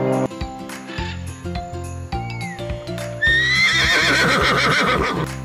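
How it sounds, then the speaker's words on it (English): A horse whinnies loudly in a long, shaky, falling neigh, after a stretch of clip-clop hooves and tinkling over background music. "Horse."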